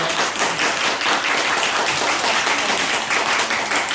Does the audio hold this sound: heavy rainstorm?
no